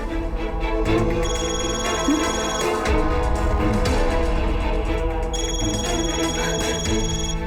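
A phone rings with an incoming call in a home setting, its tone repeating steadily and clearly across the whole stretch over low background sound, with no one speaking.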